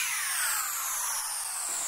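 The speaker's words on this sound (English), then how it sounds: "Down here we have a sweep synth." A sweep synth, a bright, airy noise wash that glides slowly downward over about two seconds, steady and alone, then cuts off abruptly.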